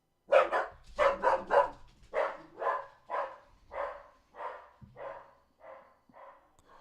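A dog barks about a dozen times in a steady, evenly spaced series, loud at first and fading in strength as it goes on, with no talking over it.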